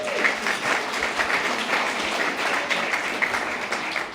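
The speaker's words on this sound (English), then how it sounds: "One more round of applause for our chairs." Sustained dense applause from a large audience at the First Nations Media Awards night, steady and even throughout, with no voices standing out.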